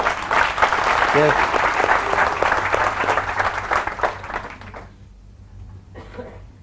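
Audience applause fills the hall, a dense sustained clapping that gradually thins and fades toward the end, with someone speaking over it.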